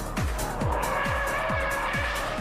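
A Toyota Camry drifting in Saudi Arabia, with a steady engine roar under repeated falling whooshes as it sweeps by, about six quick passes in two and a half seconds, and tire squeal layered over the loud continuous noise.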